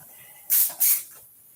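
A cheap airbrush running on about 10 pounds of compressed air sprays paint in two quick, loud hissing bursts close by, with quiet between them.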